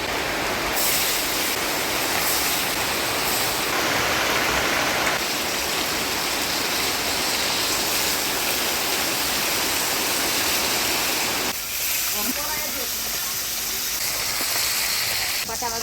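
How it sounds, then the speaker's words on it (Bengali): Heavy downpour pours continuously as a dense, loud, even hiss with no let-up, and a brief patch of speech comes through near the end. "দেখেন দেখতে দেখতে বৃষ্টি এসে গেছে, একদম ঝুমঝুমা বৃষ্টি"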